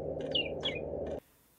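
An electronic bird sound effect plays from a LEGO WeDo robotics Big Bird model as its tilt sensor is triggered, with three quick chirping calls over a steady hum that cuts off abruptly near the end.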